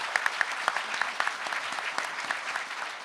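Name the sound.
audience applause for panelists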